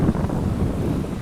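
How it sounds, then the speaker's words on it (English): Outdoor wind buffets the microphone in a brief, steady, close low roar with no other sound on top. "it's a bit windy now"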